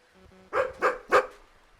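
Dog giving three sharp, close barks in quick succession after a faint, brief tonal beep.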